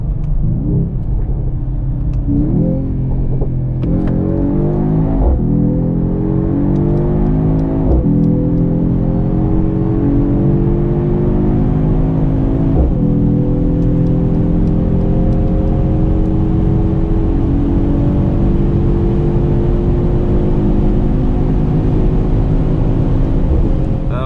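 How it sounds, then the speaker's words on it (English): Mercedes-AMG GT 53 4 Door accelerating hard from 100 to 200 km/h in a rolling start, engine droning loud and steady from inside the car, rising in pitch through successive gears with brief dips at each shift and no talking. "let's now see how fast the car goes from 100 to 200 rolling start"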